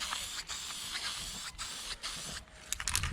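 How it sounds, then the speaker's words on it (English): Aerosol spray can hissing paint onto car bumpers, a 1964 Ford Galaxie's, outdoors in a backyard; a steady close hiss runs in bursts with short breaks and a few clicks near the end. "Good old backyard spray can"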